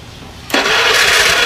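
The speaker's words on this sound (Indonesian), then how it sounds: "Nah, ini walaupun mesin dingin, setar langsung bisa." A cold Honda Vario scooter with a jumpered CDI starts up: quiet at first, then the engine catches instantly and settles into a steady, close, loud idle.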